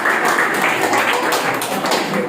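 Students in a spoken-English debate class applaud themselves, a brief, steady wash of clapping filling the short moment at close range.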